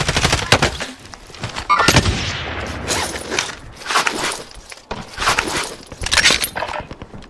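Gunfire in a Warzone zombies match, with bursts of rapid shots and single cracks coming in waves at close range, loud and busy alongside other game noise throughout.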